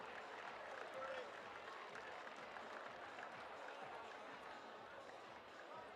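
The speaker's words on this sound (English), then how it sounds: "Big round of applause for Jordan Shepard" At a 2024 youth national climbing championship lead final, the crowd applauds a climber with steady, sustained clapping, fairly distant and filling the venue.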